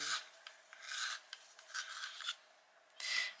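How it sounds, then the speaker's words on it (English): A brown colored pencil being sharpened: several short, dry rasping grinds up close, each a second or less, separated by brief quiet gaps. "This one needs a sharpen."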